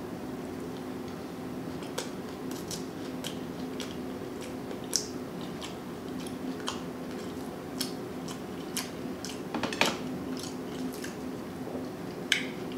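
Close, crisp crunching from someone eating Burger King onion rings, irregular bites and chews scattered through a quiet room hum, with a few sharper crunches standing out.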